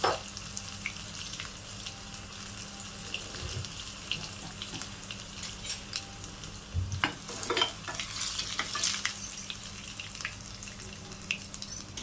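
Tempering spices sizzle and crackle in hot oil for Andhra-style ponnaganti dal, a continuous near frying hiss with sharp pops and a few stirring scrapes, no voices.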